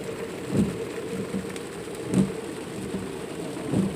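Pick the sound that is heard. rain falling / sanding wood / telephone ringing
rain falling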